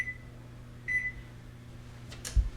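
A kitchen timer being set for 11 minutes gives two short, clear electronic beeps about a second apart over a low appliance hum, followed by a couple of faint clicks and a soft thump.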